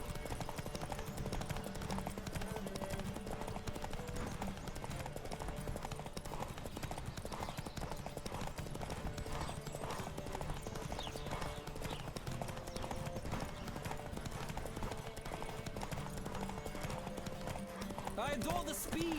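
Rhythmic hoofbeats of a horse racing in The Witcher 3: Wild Hunt clatter steadily throughout, quiet and continuous beneath game voices and a low tonal backdrop.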